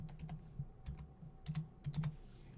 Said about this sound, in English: or type it out.